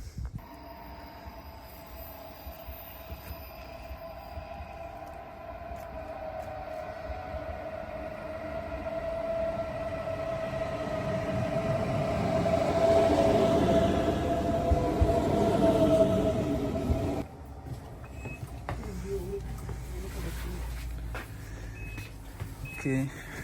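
Inside a moving ICE train in Germany, a quiet, steady rumble and hum of the carriage swells gradually toward the middle before dropping back to a low drone.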